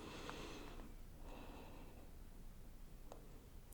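During a yoga resting pose an instructor draws a couple of deep, soft breaths close to the microphone, slow airy inhales and exhales in a quiet room.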